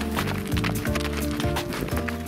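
Horses walking on a long backcountry crossing during a moose hunt in British Columbia, with steady clip-clop hoof beats in a loose repeating rhythm, close and fairly loud. Harness or tack sounds mix in, and no one speaks.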